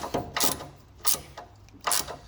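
A ratchet tightens bump stop bolts on a 1999-2004 Jeep Grand Cherokee, giving a few short, sharp clicking bursts spaced apart, close and clear with no voices.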